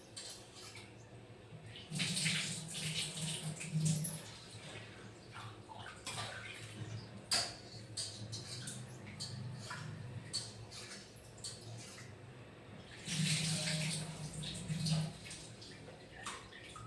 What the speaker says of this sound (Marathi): तर तांदूळ धुवून झाले आहे.